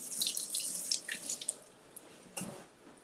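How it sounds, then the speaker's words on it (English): A pepper is rinsed under running tap water while making fresh salsa, heard as uneven splashing and spattering close by, with bursts that rise and fall and then trail off. "but I'm just gonna rinse it for now."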